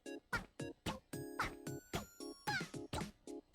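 Cartoon cat meows from the rhythm game Rhythm Heaven Groove, a dozen short evenly spaced mews in a steady beat, each backed by a bright chiming tone, clear and close with no talk.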